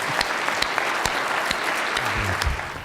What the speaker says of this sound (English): please, round of applause for our fabulous panel